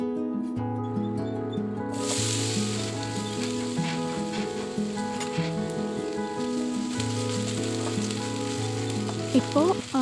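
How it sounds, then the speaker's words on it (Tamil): Potato cubes, washed, peeled and cut into large pieces, fry in oil in a pan for a Tamil potato fry, giving a steady, close, continuous sizzle that starts abruptly and sits under faint background music. "ஒரு 2 மினிட்ஸ் வந்து அது கொஞ்சம் லைட்டாக வந்து ஃப்ரை ஆகட்டும்"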